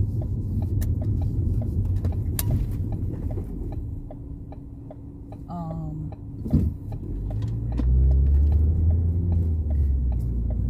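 A car driving along a long stretch of road gives a steady low rumble and road roar throughout, swelling louder toward the end, with a brief mechanical squeak midway.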